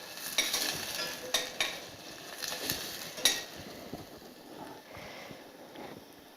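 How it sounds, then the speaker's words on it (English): Food being stirred in a pan with a little oil, with a soft, steady sizzle under a series of light scrapes and clinks from the utensil, fairly faint and close, with no talking. "Again, a bit of oil, just a bit. And just stir."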